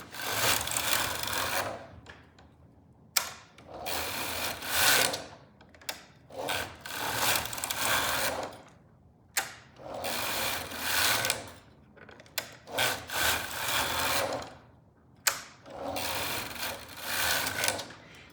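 A Silver Reed knitting machine knits tubular fabric, its carriage rasping back and forth across the needle bed in repeated loud mechanical passes of about two seconds each, separated by brief quiet pauses.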